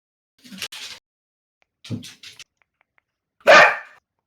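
A dog barks three times in short separate bursts, close and fairly loud against silence, the last bark the strongest.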